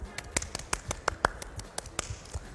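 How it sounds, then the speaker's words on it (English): Children in a classroom clap in a loose, uneven burst of sharp claps spread over a couple of seconds, fairly quiet and slightly distant. "let's clap for ourselves"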